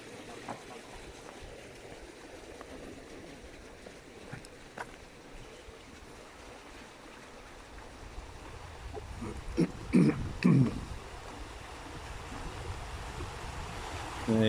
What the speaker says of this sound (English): there's water rushing through there